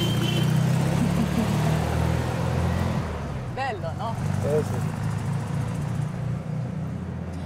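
A car engine hums steadily from inside the cabin while driving through the Veneto, with the low drone easing a little partway through as people talk over it in Italian and German.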